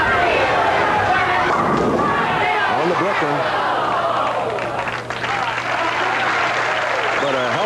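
Crowd applause at a 1982 bowling match, the Greater Hartford Open, greeting a strong start by Pete Weber, a broad wash of clapping layered with an announcer's voice and echoing thumps from the lanes.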